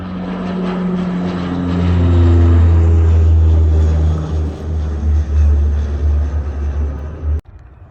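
A KLM Boeing 737-800 airliner at Bergen Flesland airport in Norway gives a loud, close jet roar that swells to a peak, holds, then wavers and cuts off abruptly near the end.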